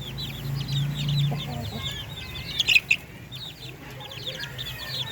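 Darag native chickens cluck on a farm, several short clucks and calls scattered across the clip, with a louder burst of clucking midway and low farm background underneath.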